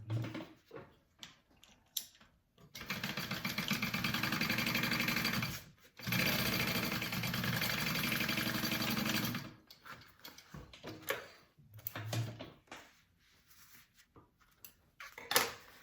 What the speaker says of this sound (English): we are going to sew along the top with a 1/2 inch seam allowance